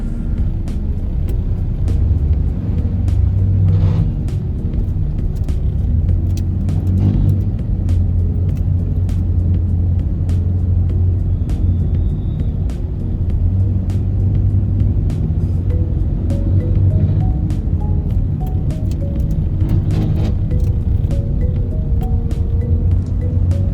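Cars crawling through slow rush-hour traffic, a continuous low engine and road rumble with faint passing swells, steady and fairly close, with no talking.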